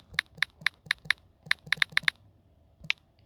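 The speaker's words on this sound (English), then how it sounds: "Let me type that out properly." Typing on a computer keyboard: a brief run of crisp, close key clicks in an uneven rhythm, with a short pause before a final keystroke, heard alone without talk.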